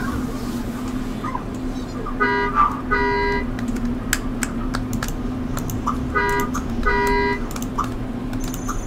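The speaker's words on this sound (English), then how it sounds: "And now watch as I set this alarm clock." An alarm clock rings in The Sims 3, sounding as repeated bursts of electronic beeps over a steady background hum, with a soft game chime near the start.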